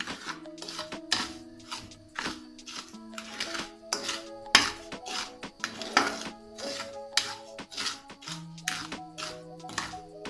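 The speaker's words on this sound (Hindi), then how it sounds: "इसे हम सलसल चलाते रहेंगे चम्मच को हम" A metal spoon scrapes and clinks repeatedly against a pan while caramel melts over low heat, a busy irregular rhythm of close, bright metallic taps and rings.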